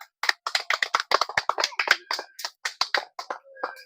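Applause for a child who has just won 50 taka in a guessing game, with fast irregular hand claps from a small group, fairly close and steady, then thinning out toward the end.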